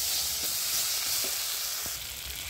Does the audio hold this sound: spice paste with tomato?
yes